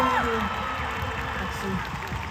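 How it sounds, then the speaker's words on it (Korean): A concert crowd applauds and cheers for the group members at THE DREAM SHOW 2, a steady wash of clapping and screams under louder speech. "그걸 다 함께 해준 멤버들에게 큰 박수 주세요"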